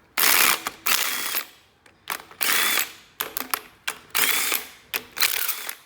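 A ratchet wrench loosens engine head bolts in repeated close bursts of rapid clicking, separated by short pauses as the tool is reset, with no voices over it.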